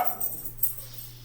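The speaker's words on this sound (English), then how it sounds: "Dogs can be kind of loud sometimes." A dog barks a couple of quick times somewhere in the background, fairly faint over a steady low hum, with no talking.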